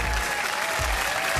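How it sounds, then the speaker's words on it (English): Large crowd at a Gran Turismo World Tour Nations Cup esports event in Sydney cheering and applauding, a dense continuous roar of clapping and shouting filling the arena throughout. "can you hear the crowd on their feet?"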